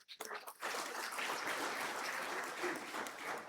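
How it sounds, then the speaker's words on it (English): An audience gives a governor a round of applause after his keynote address. A brief voice comes first, then a steady, even wash of clapping that sounds soft and somewhat distant. "Let's give him another round of applause"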